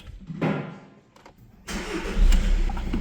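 A 1.6 TDI diesel car on a dyno cranks over and starts, settling into a loud, steady rumble after a brief quieter stretch.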